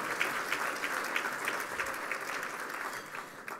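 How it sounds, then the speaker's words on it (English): Steady applause from an audience at a Norwalk State of the City event, a dense wash of clapping sustained throughout at moderate level. "Let's give another round of applause for the Norwalk Community Coordinating Council"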